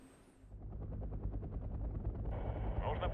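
Mi-24 attack helicopters in the Wargame: Red Dragon strategy game, a steady rotor drone with rapid rhythmic thumping that grows louder and brighter toward the end, with faint battle noise.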